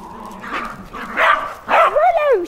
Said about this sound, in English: keep that dog under control